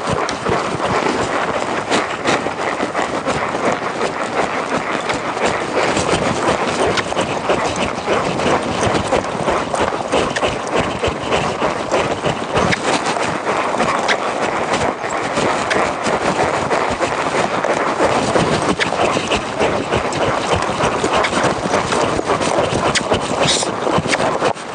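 A buckskin horse under a rider walks with continuous clip-clopping hooves, a busy rhythmic patter under heavy wind buffeting across the microphone, steady for the full length with no speech.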